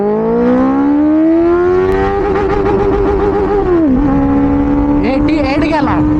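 Benelli 600i motorcycle accelerating hard in first gear on a highway, loud and close, its engine note rising steadily into a high whine before dipping at the shift, with wind noise and brief voice-like sounds.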